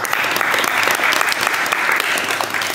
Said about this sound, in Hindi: तो आप सभी के लिए एक जोरदार तालियां